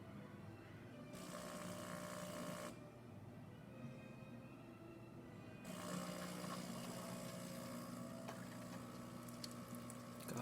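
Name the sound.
DeLonghi espresso machine pumping a shot of espresso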